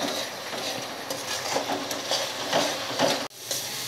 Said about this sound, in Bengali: এবার সব কিছু নেড়ে চেড়ে ভালো করে ভাজতে হবে।